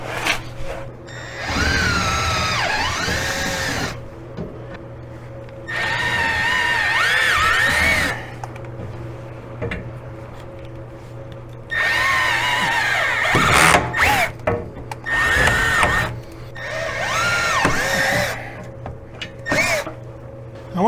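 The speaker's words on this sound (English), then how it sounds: "to put some holes in this thing" Power drill boring holes for a Moose snow plow mount on a Polaris RZR 800/570: four separate whining bursts of a few seconds each, rising in pitch as the drill spins up, close and loud, with quieter gaps between.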